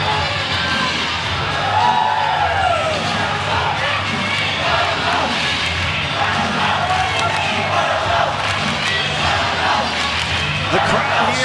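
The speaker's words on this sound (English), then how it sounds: "The crowd here in Dallas electric." Loud, sustained roar of a big indoor crowd at an ISL swimming meet in Dallas, cheering and shouting continuously with whoops rising throughout, an announcer's voice blended in.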